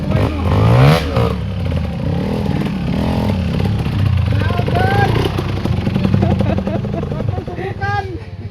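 A motorcycle engine labors and revs unevenly as the rider struggles to hold a straight line, its drone running steadily under loud, overlapping voices shouting instructions.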